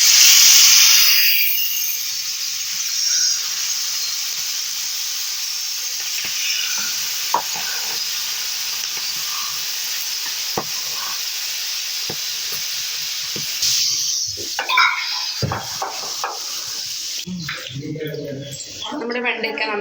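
Okra dropped into hot oil sets off a loud burst of sizzling that settles into a steady fry hiss, with occasional stirring clatter and utensil knocks toward the end.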